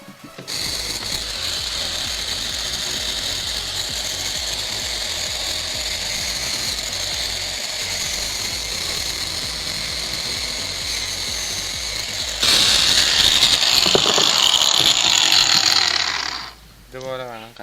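Leftover metal is being cut off while an axe is made with a welding machine, giving a steady, loud grinding whine that holds for about twelve seconds, turns harsher and brighter for a few more, then stops.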